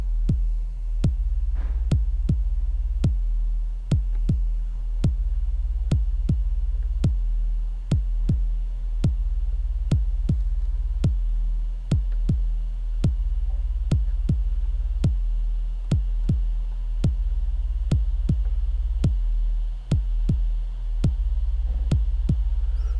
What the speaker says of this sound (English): the kick controlling the compressor for that classic sidechained bass sound